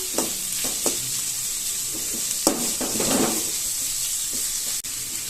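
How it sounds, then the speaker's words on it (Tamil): Vegetables are briefly stirred and sautéed in a pan for wheat dosai, with a soft continuous sizzle broken by a few sharp stirring scrapes and taps. "இப்போ இதை லைட்டா மிக்ஸ் பண்ணா போதும், ரொம்ப நேரம் போட்டு வதக்க வேண்டாம்"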